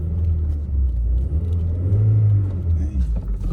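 A manual stick-shift car pulls away at a Manheim dealer auto auction, a steady low engine rumble close up throughout the short stretch, with a little talk.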